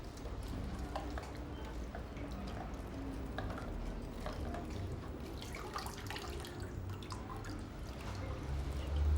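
Pineapples being washed by hand in a large basin of water, giving a steady close splashing and sloshing with dripping, continuous throughout and rising slightly at the end.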